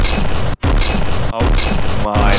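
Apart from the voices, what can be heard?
custom cannon firing in From the Depths video game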